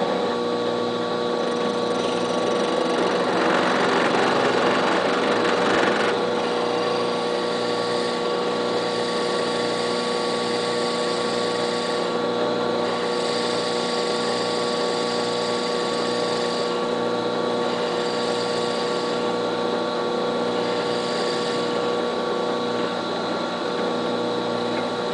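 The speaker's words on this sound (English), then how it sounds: "I'm going to go ahead and drill this hole now." A drill bores a hole in a TIE Defender model kit, a steady, close, continuous motor whine with a constant pitch that holds for the whole stretch.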